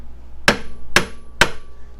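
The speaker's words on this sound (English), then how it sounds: "just tap the top with a hammer" Three sharp metallic hammer taps, evenly spaced about half a second apart, knock a track bar into its bracket on a Jeep XJ during a long arm lift install, each strike ringing briefly and close by with no talk.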